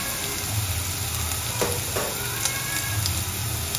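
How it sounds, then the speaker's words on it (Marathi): Masala frying in oil in a pan while cooking a mahua fruit vegetable dish, making a steady, close sizzle with a couple of brief stirring scrapes near the middle. "आता तेल सुटेपर्यंत आपल्याला मसाला चांगला परतून घ्यायचा आहे"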